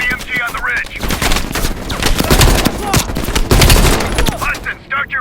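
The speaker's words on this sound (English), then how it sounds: "Heavy MG on the ridge." Heavy machine gun fire rattles down from a ridge in Call of Duty: Black Ops Cold War, a loud, dense fusillade of rapid bursts running nearly the whole time, with brief voice-like sounds at the start and end.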